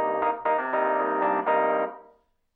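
A bright old speaker electric piano preset in Cantabile plays a short run of chords, each note struck cleanly and ringing before fading out at the end, with no voices.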